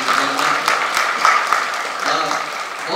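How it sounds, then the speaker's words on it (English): Audience applause at a Bengaluru press meet for the film Animal, dense steady clapping from a crowd filling the whole moment, fairly close and loud with no voices over it. "Let's give Ranbir a big round of applause once again, ladies and gentlemen."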